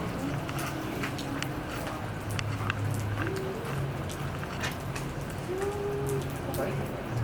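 Rain falls in a continuous, even patter outdoors, with voices talking and calling over the steady wash of drops.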